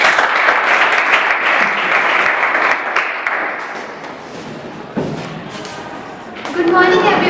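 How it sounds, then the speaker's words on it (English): Classroom applause for a student about to present, loud and full at first, then fading into scattered claps, with a thud midway and a voice starting to speak at the end. "So please have a big round of applause for you."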